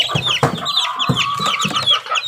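Gamefowl chicks of Kelso, Gilmore and Asil lines cluck and peep close by, with rapid overlapping chirps and short clucks in a continuous busy chatter.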